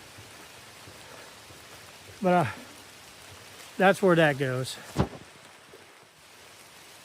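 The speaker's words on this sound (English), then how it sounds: "It's starting to rain a lot harder." Steady rain patters over a wooded hiking trail at Alexander's Ford, a continuous hiss running throughout while someone speaks briefly over it.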